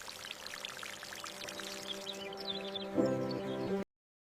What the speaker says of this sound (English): She is going to water the yellow sunflowers.